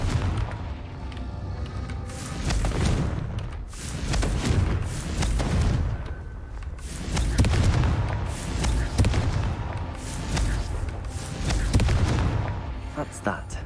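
Confringo explosion spells cast over and over in a Harry Potter video game, a series of heavy booming blasts and thuds in repeated waves, loud and close, mixed with game sound and occasional talk.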